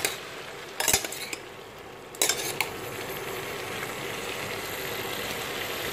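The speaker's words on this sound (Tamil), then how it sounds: "காய் போட்டோன்னே நல்லா ஹை ஃப்ளேமில் வச்சு வதக்குங்க." Chopped vegetables for sambar sizzle steadily in a pan over high flame, with two sharp bursts of stirring and utensil scrapes over the constant frying hiss.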